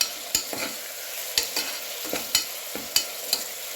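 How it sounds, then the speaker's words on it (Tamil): Onion, tomato and coriander frying in oil, with a soft continuous sizzle broken by several distinct scraping stirs of a spoon against the pan, close and clear with no talking. "வதங்கி அது ஆயில் பிரிஞ்சு வர வரைக்கும் ஃப்ரை பண்ணிட்டே இருக்கேன்"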